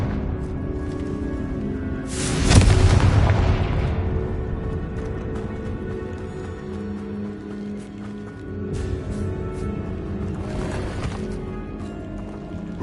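A Confringo blasting curse explodes in a Harry Potter video game, a loud burst with a long rumbling decay, followed later by a softer whooshing swell over steady game background sounds.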